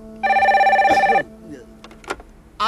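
Telephone bell ringing indoors in a Turkish hidden-camera comedy scene, one loud sustained ring burst lasting about a second, followed by quieter clattering handling noises and a brief louder sound at the end.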